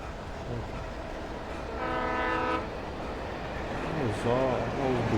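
In the video game Alan Wake, a subway train rumbles past with a steady roar, a sustained horn tone sounding partway through, while someone talks over it.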